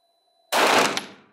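A Canik Rival pistol fires at a shooting test: a single sharp, loud shot bursts out of near silence and rings off in a decaying tail, with a possible second crack close behind.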